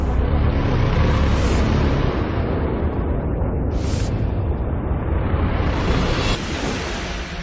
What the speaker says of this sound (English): Fires and explosions rage along the plane's 310-foot track through the building.